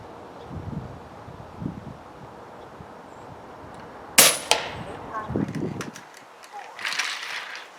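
An FX Hybrid air rifle fires a slug into a ballistic test target outdoors: one sharp crack at mid-clip, a follow-up thud and rustle, over a steady wind-blown background.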